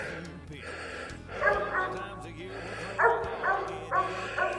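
Hunting dog barking at an animal up a tree, repeated loud bawling barks in uneven bursts, somewhat distant, over low background noise.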